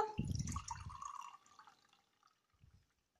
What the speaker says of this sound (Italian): Ecco qua un po' di acqua direi che è più che sufficiente, non facciamo sgocciare anche l'altro